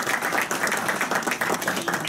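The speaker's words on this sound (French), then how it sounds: "On l'applaudit." Applause from the audience at a Republican banquet in Paris, a steady patter of many hands clapping at moderate volume with no talk over it, held evenly across the whole stretch.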